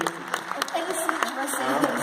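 Audience applauding at a presentation, a patter of claps spread through the room, moderately loud and mixed with talking.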